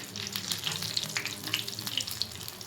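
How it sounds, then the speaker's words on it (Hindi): Gram flour pakoras deep frying in hot oil give a steady, close sizzle with crackling pops scattered throughout, and no one speaks. "डीप फ्राई कीजिएगा ताकि ये सही से फ्राई हो जाए और कच्चा भी ना रहे"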